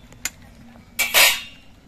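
A metal pot of boiled cauliflower stalks is lifted off the stove, giving a sharp clink followed by a louder scraping clatter of metal on the burner, close and alone.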